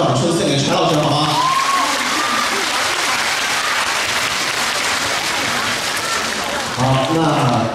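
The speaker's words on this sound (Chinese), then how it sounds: "那大家再次把掌声献给柴老师，好吗？" A fan-meeting audience in Shanghai gives a teacher sustained applause: a thick, steady wash of clapping from many hands, with voices briefly audible at the start and end.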